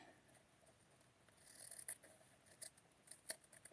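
Scissors snip fabric for doll pants in a handful of quiet, close cuts with soft rasping slides between them, faint against a low background hiss.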